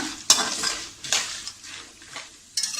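Roasted split chickpeas stir-fried in a pan for a pohe chivda, with soft sizzling and several scraping, clinking strokes of a spoon against the metal at irregular intervals.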